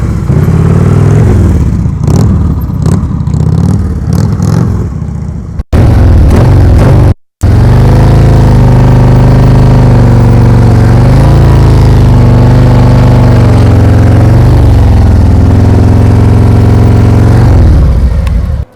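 Loud, close motorcycle engine at a slow-speed riding practice, with fluctuating revs and throttle surges, briefly cut off by abrupt breaks before settling into a sustained droning hum.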